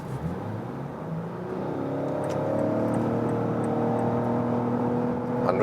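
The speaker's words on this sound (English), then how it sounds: "go to 40 kilometers an hour and accelerate it out" A 2022 Lexus RX 450h F Sport hybrid SUV in Sport Plus mode accelerates hard from 40 km/h on the German Autobahn, heard from inside the cabin as a steady, rising engine and motor drone that climbs in pitch and grows louder.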